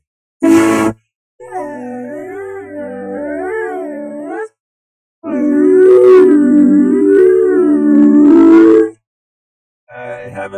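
A loud hand-cranked siren wails in rising and falling sweeps, stopping and restarting several times with short silent gaps between bursts.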